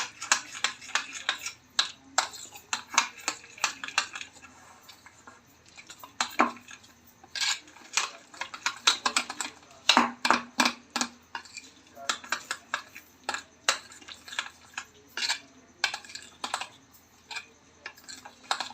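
Spices, coriander and green onion being mixed in a pan, with irregular clinking and scraping of a spoon against metal in quick uneven bursts and short pauses.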